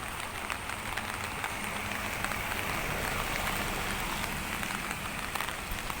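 Heavy rain pounds down steadily at an outdoor agricultural fair in Ko Chan district, Thailand, a dense, loud, unbroken hiss with scattered drops spattering on surfaces, and no talking.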